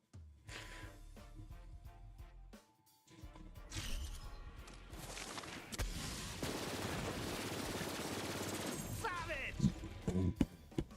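Shotgun gunfire in a video game comes in dense, noisy bursts with crashing, mechanical clatter, filling most of the stretch after a brief silent gap, with someone talking over it.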